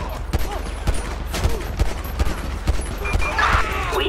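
Machine gun fire in GTA V: loud, rapid bursts of shots in a steady rhythm, many cracks in quick succession over a continuous din of gunfire, with no clear talking.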